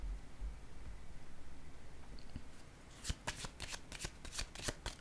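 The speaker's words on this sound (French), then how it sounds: "Je vais déposer une carte." Playing cards laid down on a table in a quiet room, a quick run of sharp, crisp slaps and flicks close by after a stretch of near silence.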